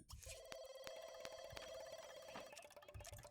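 Telephone ringing in The Sims 2: a continuous warbling electronic ring holding steady across the whole stretch, moderately loud over faint background game sounds, with no voices.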